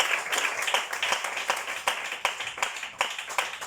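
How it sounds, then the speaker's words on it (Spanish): Church congregation claps along, sharp hand claps in a loose, uneven rhythm at moderate distance, fairly quiet and steady for a few seconds. "Dale un aplauso"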